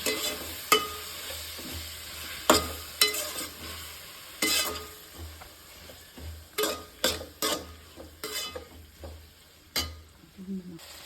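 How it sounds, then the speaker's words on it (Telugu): Tomatoes stirred into a frying mutton gravy masala, a soft steady sizzle under repeated sharp clinks and scrapes of a spoon against the pan, close by with no voices. "ఇందులో 2 టమాటాలు వేసుకుందాం. ఒకసారి బాగా కలుపుకుందాం."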